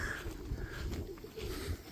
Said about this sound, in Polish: Pełna buda tych gołębi jest odpukać